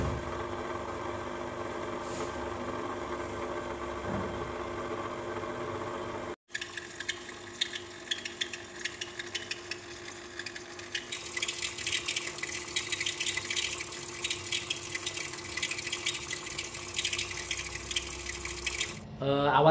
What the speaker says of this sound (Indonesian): kadangkala ada suara krotok-krotok di mesinnya